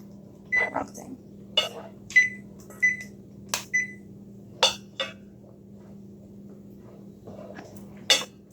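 A kitchen timer on a stove is set for seven minutes, giving a run of short sharp beeps and clicks spaced irregularly, close and distinct over a low steady hum.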